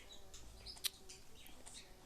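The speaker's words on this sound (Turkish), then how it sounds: "Arkada bir kuş sesi duyuyorsanız kusura bakmayın." A pet bird chirps faintly in the background of a quiet indoor room, a few brief high tweets scattered across the moment with one sharper chirp standing out, no talking.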